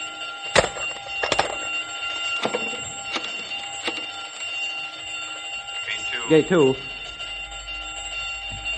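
An alarm rings at a zoo during a radio drama about an escaped animal, sounding as a steady ringing tone with several sharp strikes, and voices speak over it.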